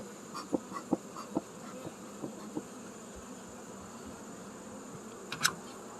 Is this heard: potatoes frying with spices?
no